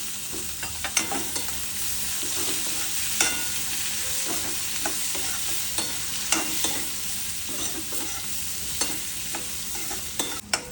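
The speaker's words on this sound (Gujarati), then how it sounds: "એ ચાર ડુંગળી નાખી દેવાની પહેલાં અંદર અને એને સારી એવી સાતરી દેવાની" Several onions sauté in oil in a pan that already holds dried garlic, with a constant loud sizzle. Regular scrapes and taps of a stirring spoon run throughout, with no voices.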